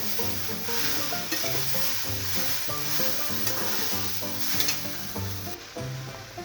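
Okra (bhindi) cooking in an open pan, with a continuous loud sizzle and frying crackle up close, plus intermittent stirring scrapes throughout and no voices.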